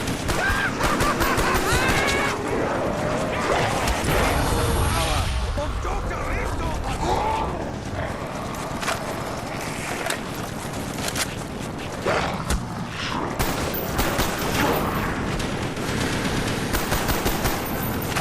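Video game gunfire crackling in rapid bursts and sustained volleys, dense and loud, with mechanical clanks and a voice speaking over the shooting.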